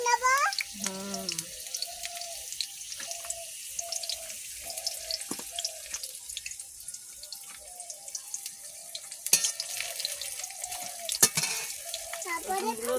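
Onion and garlic sizzle in a pan while cooking a Bengali dish of pumpkin greens with prawns, a steady crackle broken by stirring scrapes, with a voice speaking intermittently over it.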